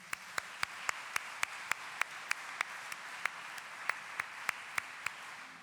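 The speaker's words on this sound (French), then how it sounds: "On les applaudit." Audience applause inside a church during a concert gives an even wash of clapping, with sharp, regular rhythmic claps standing out on a steady beat throughout.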